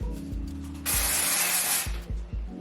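A mini bottle of Living Proof Perfect Hair Day bodybuilder hair spray releases one steady, close hiss of about a second, set against a quiet, humming background.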